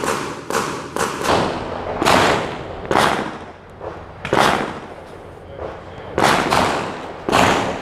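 Mossberg Shockwave 590 12 gauge firing Aguila minishells at an outdoor range: a rapid string of about ten loud, sharp booms at irregular intervals, each with a short ringing decay.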